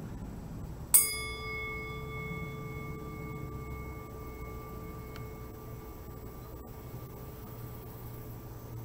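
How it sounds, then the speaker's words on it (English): A single meditation bell strike rings out clearly, then its pure tone lingers and slowly fades over several seconds against a quiet background. "We're going to listen to our bell and then we'll get started."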